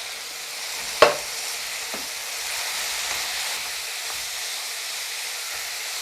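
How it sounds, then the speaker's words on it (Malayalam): Water left from boiling liver goes into a hot frying pan of spiced masala for a Kuttanad toddy-shop-style liver fry. A single clank sounds early, then a steady, moderate sizzling hiss carries on to the end. "നമ്മൾ നമ്മുടെ ഈ ലിവർ വെന്ത വെള്ളമില്ലേ ഒരു ഇച്ചിരി ഒഴിച്ചു കൊടുക്കാം"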